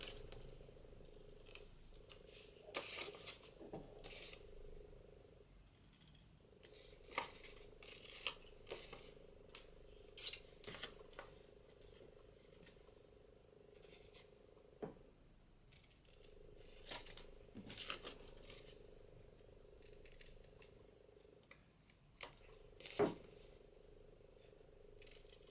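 Scissors nick the corners of scored paper while assembling a junk journal gatefold page, giving a run of short, crisp snips in small clusters, close and fairly quiet against a near-silent background.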